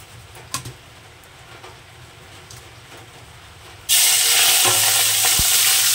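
Turmeric-and-salt-coated prawns drop into hot oil in a wok. After a few seconds of quiet room noise, a sudden loud, steady sizzle bursts up and keeps going, close and dense.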